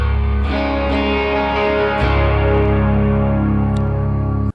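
Clean-toned PRS Custom 24 electric guitar run through a Quad Cortex Dream Chorus into a clean 100-watt tweed amp model, with sustained shimmering chords, several restrikes and a steady, full level that cuts off abruptly at the end.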